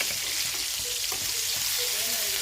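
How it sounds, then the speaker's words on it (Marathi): Ballapata fish pieces frying in hot oil in a pan, a dense continuous sizzle with faint scraping as the fish is turned, brief and close. "एकदम कडक मच्छी फ्राय करायची आहे"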